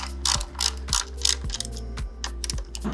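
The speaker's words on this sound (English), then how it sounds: "we're going to tighten down our pinch bolts" Ratchet wrench tightening the front-wheel pinch bolts on an SG400 motorcycle: close, loud rapid clicking in repeated strokes, with brief pauses between swings.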